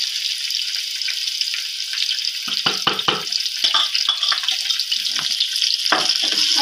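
Sliced ginger with green and red chilies fry in a hot pan for masoor daal, a continuous bright crackling sizzle with quick spitting pops, close and fairly loud, with no speech.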